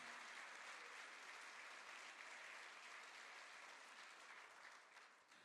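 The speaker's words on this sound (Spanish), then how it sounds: "Dele un aplauso ahí al Señor." A church congregation claps together for a sustained stretch, a dense, even roar of hands that fades slightly at the end.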